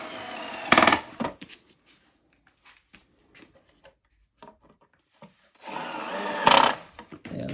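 Cordless drill screwdriver driving screws into a plastic TV stand panel, with two short bursts of whirring and a few soft taps and handling knocks between them, close by.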